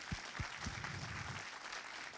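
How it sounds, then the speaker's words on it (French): A masterclass audience applauds as the anime director Rintaro is welcomed on stage, a brief, soft burst of clapping heard from a distance. "qu'on applaudit"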